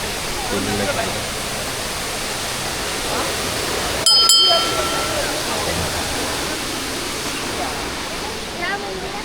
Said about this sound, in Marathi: इथे नदीचा प्रवाह आहे खूप अति छान